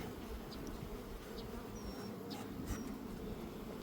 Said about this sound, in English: I have a bee that keeps landing on the front of my mask.